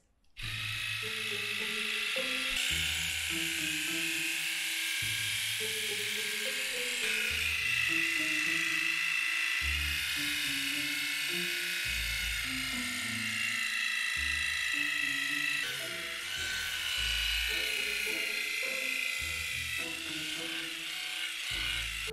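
A battery-operated hair detangling brush buzzes loudly and close by in a harsh electric whir, running in repeated bursts whose pitch shifts as it works through the hair.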